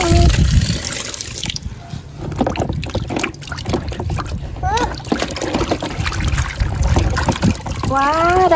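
Dirty toy dolls and figures, LOL dolls and Frozen figures, are rinsed under running water, with steady splashing and gurgling close by throughout and brief voice sounds partway through.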